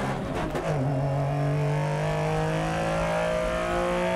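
Lancia Stratos rally car driven in Dirt Rally 2.0, its engine droning loud and steady throughout with a sustained tonal whine that climbs slightly in pitch, revving continuously with no pauses.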